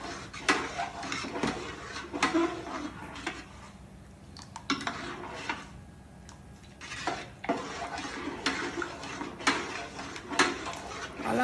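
A spoon scrapes and clinks around a pot as sago batter is stirred, irregular bursts of stirring with brief pauses, close up.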